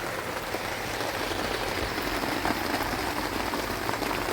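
Light, windless rain falls steadily at the Khao Kho wind turbine field, a dense continuous patter and hiss that holds an even level throughout, with no voices over it.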